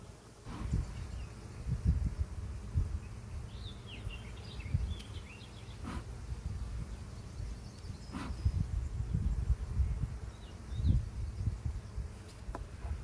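Honeybees hum and drone in a low, steady buzz around an open, strong backyard hive, with individual bees passing close now and then and soft rustling underneath.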